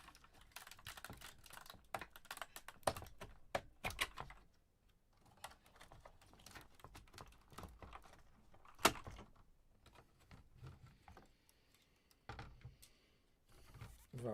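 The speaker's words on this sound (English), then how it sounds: "Okay, take the keyboard out." Keyboard of a BBC Micro computer being lifted out and handled, giving a run of close clicks, taps and plastic knocks in irregular bursts, with a louder knock midway and no talking.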